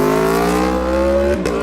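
An Aprilia RSV4 fitted with an SC Project CR-T exhaust drones at a steady, loud rev with strong engine harmonics, then dips briefly with a quick pop near the end.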